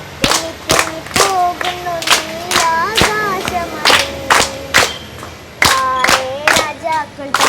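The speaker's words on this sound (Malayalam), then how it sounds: "കൈയടി" Rhythmic hand clapping for a child, sharp evenly spaced claps that come in bursts, mixed with a voice singing or chanting over them at close range.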